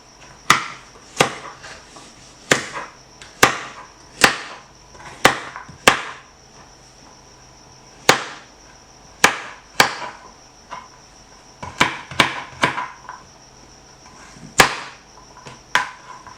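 Sharp, hard chopping strikes on coconut at an irregular pace, cutting it into small pieces, sometimes in quick clusters, each a loud crack against a faint insect-like hum in the background.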